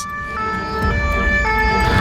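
Fire engines and emergency vehicles race to a large fire near Bordeaux airport, their wailing sirens steady and loud over rumbling road traffic, several tones overlapping without pause and no voices.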